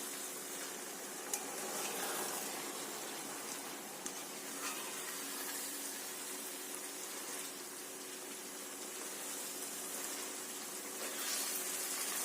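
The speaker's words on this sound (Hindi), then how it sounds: "भूनेंगे इसको 5 मिनट तक।" Minced meat with capsicum frying in a pan for keema shimla mirch; steady, close sizzle hisses continuously with occasional faint clicks of a spoon stirring, no voices.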